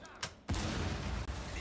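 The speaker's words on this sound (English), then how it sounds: "I heard an explosion go off." A blast goes off in the Rainbow Six Siege video game, a sudden loud burst that turns into a sustained, dense roar, following a fainter thump. No one speaks.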